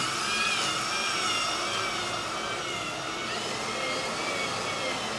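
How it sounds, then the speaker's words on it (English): A cordless drill on slow speed turns a socket on a sawmill's lead screw, giving a steady, continuous whirring motor hum with high-pitched tonal whine, fairly close and unbroken, with no talk over it. "I'm going to take the drill, going on slow speed, socket attached, and just moving it slowly."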